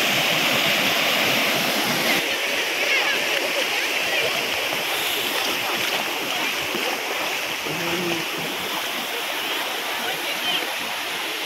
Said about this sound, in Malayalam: അതിൻ്റെ ഇടയ്ക്കൂടെ ഇങ്ങനെ വെള്ളം ഇങ്ങനെ കുത്തി ശബ്ദമൊക്കെ കേൾപ്പിച്ച് ഇങ്ങനെ ഒഴുകുകയാണ് വെള്ളം.